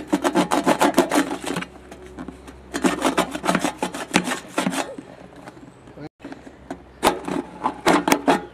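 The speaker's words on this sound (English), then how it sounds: "a little deburring" The cut edge of a plastic bucket is deburred with quick scraping strokes in short bursts, close and fairly loud, separated by brief pauses.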